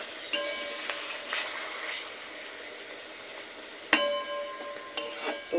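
Bacha fish in spice masala sizzles softly in a pan, a faint steady crackle broken by a few sharp clinks and scrapes of a utensil.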